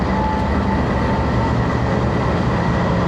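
A GU20 4554 American diesel locomotive rated at 2000 horsepower rumbles steadily and continuously at close range, a dense, even drone with a faint tonal hum and no voices.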